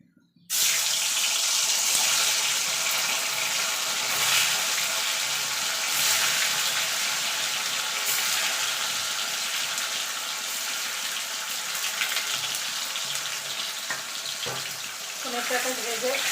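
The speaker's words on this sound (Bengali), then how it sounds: "এবার পনিরটাকে একটু ভেজে নেব।" Paneer cubes frying in mustard oil give a loud, steady broadband hiss that starts abruptly and runs on unbroken, with a few light clinks near the end.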